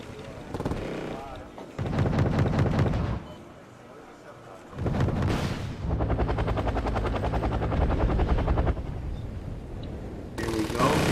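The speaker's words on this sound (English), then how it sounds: "And the aircraft guns are opening fire on him, destroying with ease those two attack helicopters." Anti-aircraft guns firing on two attack helicopters in Wargame: Red Dragon, with rotor drone and rapid bursts of gunfire in loud, blocky stretches, a voice talking over parts of it.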